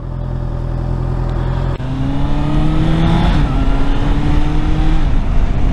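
A 2024 Honda CBR650R motorcycle engine revs loudly up close, its pitch climbing in steady sweeps after a brief dip, with no talking.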